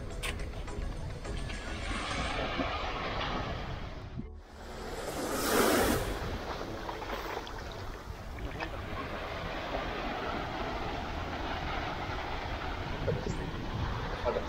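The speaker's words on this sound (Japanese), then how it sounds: "日本の海です。" Steady sea surf rolls in on the Japanese coast at Murakami, Niigata, a continuous broad wash of waves with wind noise throughout and a brief surge in the middle.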